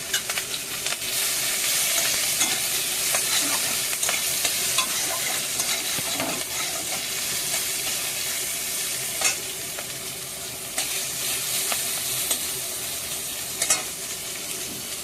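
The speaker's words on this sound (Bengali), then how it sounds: "কড়াইতে একটু তেল দিয়ে পেঁয়াজ কুচি, একটু রসুন কুচি," Chopped onion, garlic and green chili sizzle loudly in oil in a wok, a steady dense frying hiss with scattered scraping stirs and light pops throughout, no voices.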